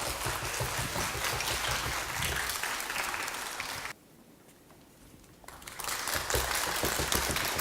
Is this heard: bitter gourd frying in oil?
no